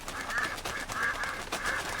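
Ducks quack in Red Dead Redemption 2, a steady run of loud, close honking calls repeating in quick rhythm with no voices over them.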